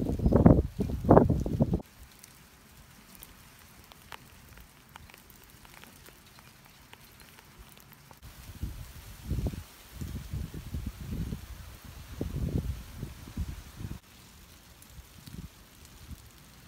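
A brief outdoor rain shower patters softly and steadily, with intermittent louder handling or rustling bumps up close.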